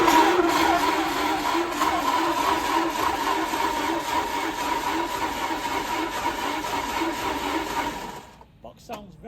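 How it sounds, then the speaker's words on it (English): A rebuilt Vauxhall Corsa B with a carbureted C20XE engine cranks on a noisy starter motor and runs with a loud, steady mechanical whir that stays constant for several seconds, then cuts off abruptly. "Starter motor's noisy as hell"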